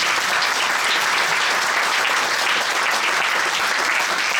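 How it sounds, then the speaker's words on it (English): A large audience applauds at NSW Parliament House, a dense, steady wash of clapping holding at full strength throughout with no voices above it. "I think I'd like to hear a round of applause for these."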